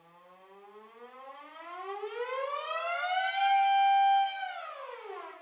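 A hand-cranked mechanical siren instrument rises steadily in pitch and loudness as it is spun faster, then holds a loud wailing tone before winding down at the end, with no talking.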